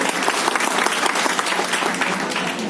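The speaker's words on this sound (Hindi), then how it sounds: "एक जोरदार ताली बजा दो भैया के लिए" Audience in a hall in Tikamgarh claps for someone at a closing speech, brisk uneven applause of a modest crowd with individual claps standing out, fairly close and continuous, no talk.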